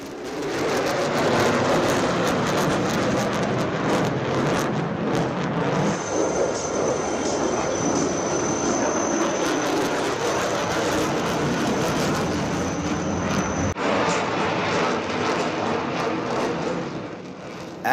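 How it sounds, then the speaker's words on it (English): A Lockheed Martin F-35 fighter jet passing at an air show in Bengaluru, a loud sustained roaring rumble that swells and holds with a thin high whine through the middle, then eases off near the end. "Listen in now to the sound that the F-35 makes."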